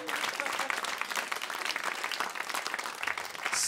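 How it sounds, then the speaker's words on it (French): A live audience at a Christmas stage show applauds a performer, dense continuous clapping filling the room at full strength and holding steady throughout. "Vous pouvez applaudir Greg pour son travail ce soir."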